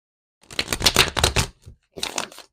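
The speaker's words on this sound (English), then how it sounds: "I'm going to do one more shuffle for you guys." A close, crisp riffle of tarot cards being shuffled, a quick flurry of snaps, a brief pause, then a shorter second riffle.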